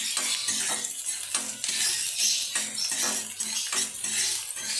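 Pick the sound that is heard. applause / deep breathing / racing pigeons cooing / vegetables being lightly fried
vegetables being lightly fried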